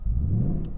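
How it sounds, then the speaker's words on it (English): A Ford Mustang Bullitt Edition V8 with its exhaust in sport mode gives a deep, thrumming rumble, a brief low-pitched burst of engine sound heard close and fairly loud. "In my mode, the exhaust is set to sport."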